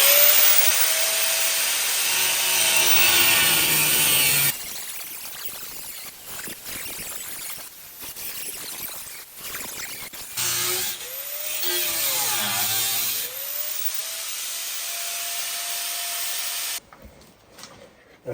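A power tool cuts out floor pan sections on a 1971 Chevrolet Nova, with a loud sustained high whine and rasping metal cutting that stops, restarts and changes pitch as it bites.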